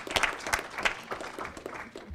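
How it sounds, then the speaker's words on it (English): Scattered applause from a small group at a school district board meeting, made of uneven, sparse claps that fade over about two seconds. "Okay, we'll clap."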